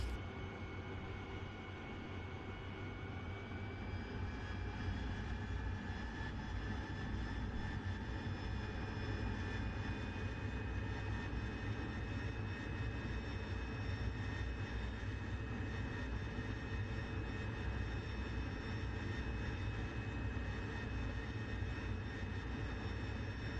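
An AV-8B Harrier jet engine held at full throttle for a vertical takeoff in a flight simulator, a loud, steady roar with whining tones that holds its level from start to finish, with no talk over it.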